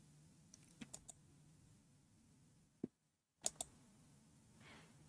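Quiet, close typing on a new computer keyboard: a few isolated key clicks and taps separated by pauses and a brief moment of silence, with faint background hum.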